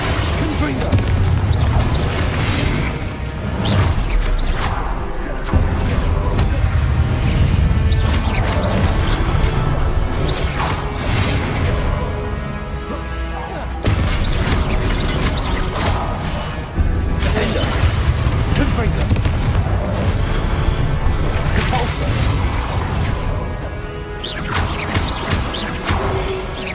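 Confringo spell explosions in the video game Hogwarts Legacy go off again and again, loud booms with crashing and shattering debris, spaced in irregular bursts over a constant heavy background of game noise.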